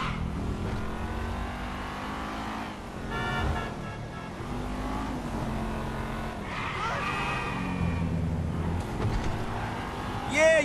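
Cars in GTA 5 driving with engines revving and tires skidding, several swelling engine passes and screeches layered close together over a continuous game background.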